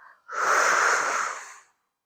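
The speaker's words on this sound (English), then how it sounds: "breathe in through your nose, looking up, and breathe out, looking down" A single long, audible exhale during seated chair yoga, a close, breathy rush of air lasting over a second, fading out into silence.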